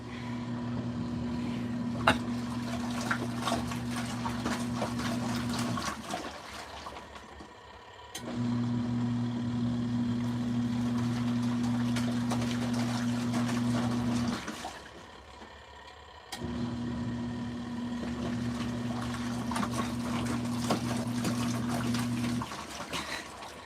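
An LG ThinQ MEGA washer fills with cold water on its SuperWash setting, water rushing and splashing in steady spells broken by short pauses, with a low hum underneath and no talking.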